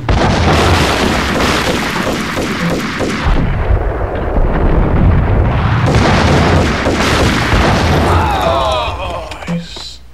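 Loud, heavy explosions from an M79 grenade launcher in the PS2 game Max Payne boom one after another, filling most of the stretch with a dense roar and a brief lull midway before more blasts.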